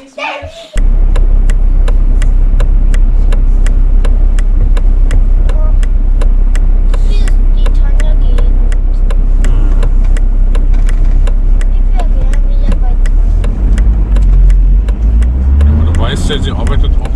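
Steady low engine rumble and road noise from inside a moving car, continuous throughout, with a child and adults chatting over it and a brief rise in hiss near the end.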